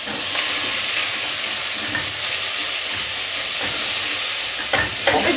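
Potato and pepper sizzle loudly as they fry in a pan, a steady hissing wash with occasional scraping clatter from stirring, close and continuous with no talk.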